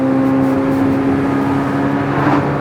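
A 2023 Chevrolet Corvette Z06 engine holds a loud, steady, close drone with strong harmonic tones, revving evenly throughout with no speech over it.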